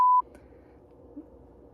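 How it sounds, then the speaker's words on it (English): A single short, loud censor beep tone sounds at the very start, cutting over a spoken spoiler, then gives way to quiet room noise. "I will beep out that gender, so in case anyone still wants to read it."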